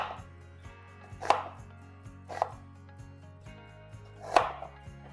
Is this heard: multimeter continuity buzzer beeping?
no